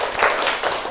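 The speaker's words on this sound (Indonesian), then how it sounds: "Tepuk tangan untuk Nisa" A primary school class claps for a pupil, heard as a brief, loud burst of close, dense hand clapping lasting under a second.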